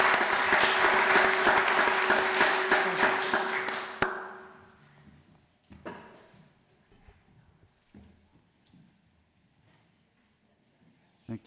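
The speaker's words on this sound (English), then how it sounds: "if we could give a round of applause for family members" At a city council meeting, a room gives a warm round of applause to family members, steady for about four seconds, then stops abruptly, leaving a quiet room with scattered knocks and shuffles.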